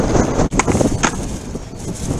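Strong wind buffeting a microphone on a rocky shoreline during a cod fishing trip, a loud, rough, continuous rumble with gusty swells and no clear talk over it.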